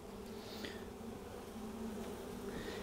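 Honey bees buzz steadily at an open, expanding spring colony, a dense close hum with individual bees droning past.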